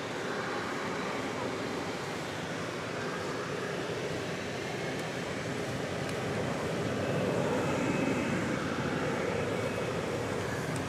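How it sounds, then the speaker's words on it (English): A Turkish Airlines Boeing 787 Dreamliner at DFW Airport at night gives off a broad, steady jet roar from a distance that swells slightly partway through, with no talking. "There's the Turkish Dreamliner."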